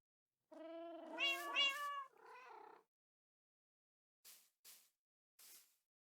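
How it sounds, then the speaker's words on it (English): A Minecraft cat gives a drawn-out two-part meow, clear and close, followed after a pause by three soft, short clicks in otherwise quiet game audio. "This one is called Mrs. Norris, after the Harry Potter cat."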